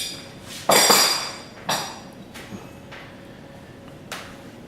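A metal tool taps the nut on a CIRT impactor assembly in a few sharp, ringing taps, with one loud strike and softer follow-up taps spaced apart in a quiet room.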